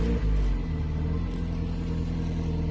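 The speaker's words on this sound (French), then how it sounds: "On démarre une voiture, on n'accélère pas, c'est à froid." A car starts from cold and settles into idle without being revved. The engine gives a low, steady rumble that is loudest at the first moment of starting, then holds an even, close drone.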